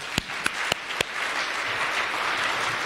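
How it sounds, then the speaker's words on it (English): At a church service, a few sharp, close handclaps open a burst of audience applause that swells into a steady wash of clapping and continues to the end. "We can clap for that message."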